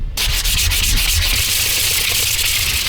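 Rhythmic back-and-forth sanding strokes rasp steadily across a wooden guitar neck, close and loud, with no voices.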